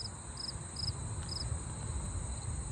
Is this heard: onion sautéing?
no